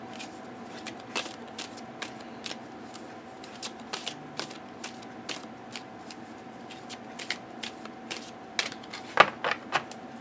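Oracle cards being shuffled and split by hand, close-up crisp flicks and soft riffling clicks scattered irregularly over a quiet background hum, with no talking.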